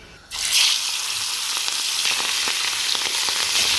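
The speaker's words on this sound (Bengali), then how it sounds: "তেলটা আমি সুন্দর সবগুলো একসাথে একটু ভাজবো।" Hilsa fish hits hot oil with a sudden burst of loud sizzling that settles into a steady, crackling fry, with small pops throughout.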